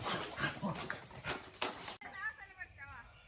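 A pet dog at a family home garden gives a few short barks and whimpers close by, mixed with people talking.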